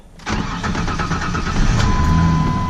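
A Ford Ranger pickup engine cold-starts after a battery reset, cranking briefly, catching, and settling into a loud, steady, slightly high idle that sounds close by.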